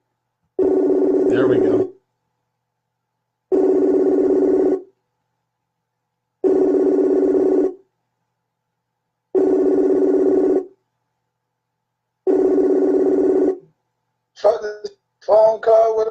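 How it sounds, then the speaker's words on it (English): FaceTime call ringing, five evenly spaced loud electronic ring tones, each about a second long with a pause between, followed by a short burst of talk as the call connects. "Phone call with a FaceTime."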